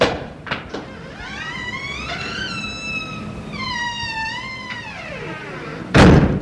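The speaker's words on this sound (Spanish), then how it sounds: "La puerta se abre" Radio sound effect of a door with unoiled hinges: a long, loud, wavering creak as it swings open, then a solid thump as it shuts at the end.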